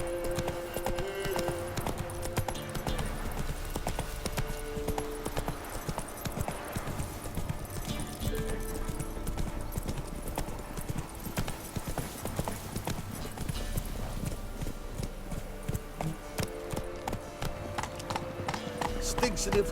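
Roach the horse galloping in The Witcher, rapid rhythmic hoofbeats clip-clopping steadily under a voice, with game music and ambience behind.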